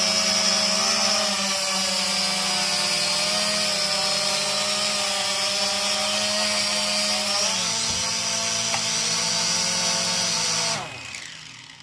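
Several small motors of an SJRC S30W GPS drone, one of them failed, whirring steadily at close range with a high tonal whine, the pitch shifting slightly before cutting off abruptly near the end.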